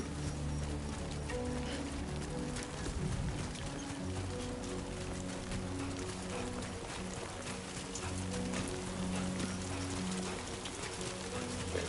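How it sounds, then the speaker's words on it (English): Steady rain in the video game Death Stranding 2, a continuous close hiss of falling drops that lasts throughout over a low, droning tonal background. "Oh, rain."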